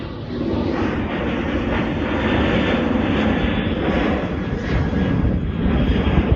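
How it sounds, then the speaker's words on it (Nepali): A steady, loud roar of an airplane flying overhead in Japan, broadband engine rumble holding level throughout with no voices. "म प्लेन देखाउँछु है मेरो माथिबाट उडेको"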